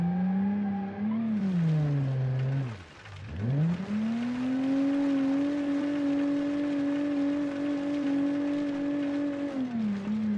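A 1970s-style rally car engine in the racing game Automation drones loudly and up close, dipping as it drops revs, then climbing back to a sustained high whine before easing off near the end.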